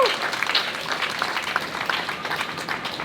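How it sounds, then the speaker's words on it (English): An audience claps at a town hall gathering in Sydney, a steady wash of applause from a crowd with a little speech mixed in. "yes, please clap him."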